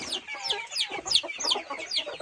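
Chickens cluck repeatedly in a rural village setting at night, a steady run of short, fairly close calls with no talking.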